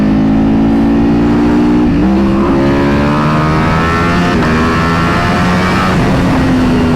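A Ducati Panigale V4 motorcycle engine on a dyno, droning loud and steady, then dropping sharply in pitch as it downshifts into first gear and carrying on at a lower, slightly wavering tone.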